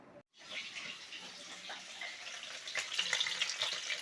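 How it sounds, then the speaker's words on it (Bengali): Fish fry in a pan with a quiet, steady sizzle that starts after a brief gap and swells slightly toward the end. "মাছগুলো ভাজা হচ্ছে"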